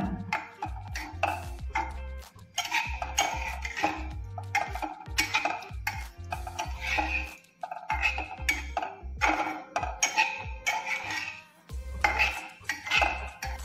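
Paneer gets stirred in a pan with a utensil, making quick, repeated metallic clinks and scrapes in a steady rhythm with brief pauses, close-up and continuous.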